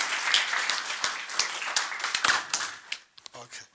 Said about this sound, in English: Let's give Dr. Wang a round of applause